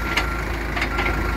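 A Cat 428F backhoe with a freshly overhauled engine, short of gear oil, runs steadily at a low idle-like drone, close and continuous with faint higher clanks on top and no voices.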